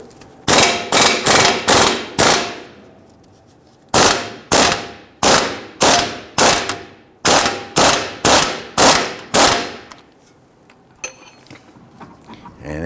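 Working on the rear lower control arm bolt of a 2010-2019 Ford Taurus with a 21mm socket during a left rear CV axle replacement: loud, sharp, rattling bursts come in three close-spaced groups with short pauses between them.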